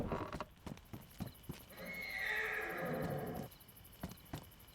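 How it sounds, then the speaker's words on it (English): A horse in a video game horse mod neighs in a long, loud whinny, surrounded by quick irregular hoof clops before and after, with no talking. "Yeah, we got the horse mod on here."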